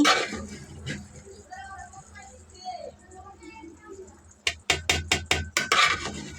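A spoon stirring and scraping through biryani rice in a pot, with soft rubbing sounds under a woman's speech, ending in a quick series of sharp scraping strokes.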